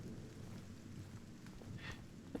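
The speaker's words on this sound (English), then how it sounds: "It's like rain sounds, like nice little storm, rain doing its thing." Steady rain and storm ambience from the Silent Hill 2 video game, a continuous low wash of rainfall with a faint rumble, constant throughout and slightly louder near the end.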